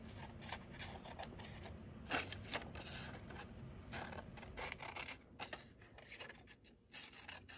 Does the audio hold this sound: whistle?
no